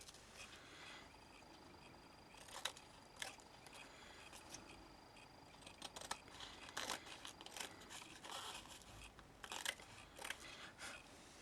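Scissors trim craft fabric down to card size, giving quiet, irregular snips and crisp rustling cuts scattered across the stretch at close range, with no talking.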